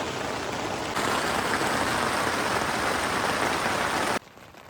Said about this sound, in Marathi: जोरदार पाऊस पडतोय एकदम.